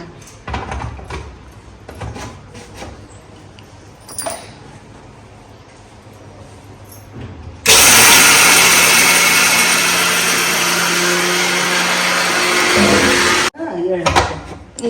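A loud mixer grinder roars steadily for several seconds grinding peanuts for sesame laddus, cutting off abruptly, with talk and kitchen clatter before and after.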